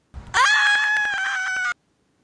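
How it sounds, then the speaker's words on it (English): A woman screams loudly and continuously for over a second while walking by a lake, a sustained high, strained tone with a few sharp breaks, preceded by brief rustling and followed by silence. "We're walking down by the lake screaming because Trump won."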